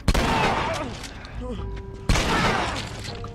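Enemy gunfire in The Last of Us, two sharp loud shots about two seconds apart, each followed by a dense, crackling burst of noise, with a voice talking between them.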